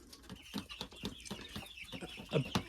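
Young hens in a chicken coop cluck and chirp in short irregular bursts, several birds close by, moderately loud with brief pauses between calls and no talk.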